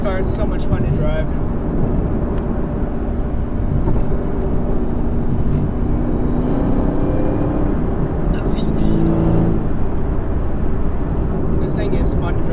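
2021 Chevrolet Camaro ZL1 1LE with a Rotofab intake and manual gearbox driving, a steady loud engine drone heard from inside the cabin, with someone talking over it.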